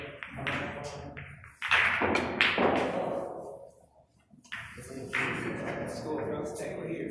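Sharp clacks of a cue striking balls on a pool table during nine-ball practice, a few crisp hits spaced apart with a pause between, standing out over a quiet room.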